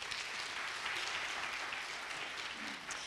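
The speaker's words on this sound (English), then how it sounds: "let's clap for all of them in advance" Audience applause at a G-20 planning summit, a steady, even wash of many hands clapping together that holds without pause for several seconds and sits at a moderate distance.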